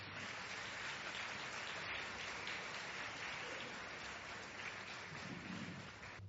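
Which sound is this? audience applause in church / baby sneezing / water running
audience applause in church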